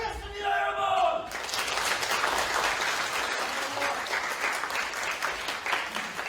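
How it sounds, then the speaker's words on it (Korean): Audience applauding and cheering at a party leadership candidate rally speech in Gyeongbuk, Korea: a speaker's voice gives way to a loud, sustained wash of crowd clapping and shouts. "다시 한번 뜨거운 박수 보내주십시오"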